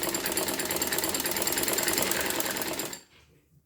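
An electric sewing machine stitching the side slits of a kurti runs in a fast, steady rattling whir at close range, then stops abruptly, leaving a short quiet tail.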